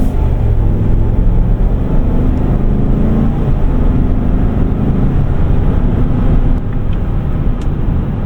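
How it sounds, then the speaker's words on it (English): A deep V8 engine of a 2025 GMC Sierra 1500 Elevation pickup rumbles loudly and steadily, a strong low-pitched drone that holds for several seconds as the truck pulls forward, with no voices. "Kind of hear the V8."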